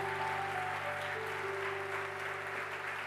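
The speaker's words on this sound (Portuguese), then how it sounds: "Você pode dar o melhor aplauso para Jesus hoje aqui?" A church congregation applauding, a broad even wash of clapping heard from a distance over a sustained keyboard chord, no voices.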